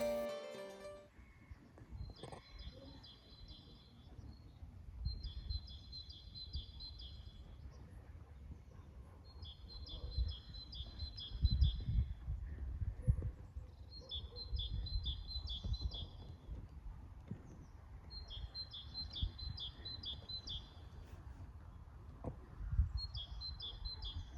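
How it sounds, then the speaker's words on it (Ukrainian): Birds singing on Taras Hill, repeated bursts of bright chirping phrases every few seconds, fairly distant over a low rumbling outdoor background. "разом насолодимося співом пташок на Тарасовій горі"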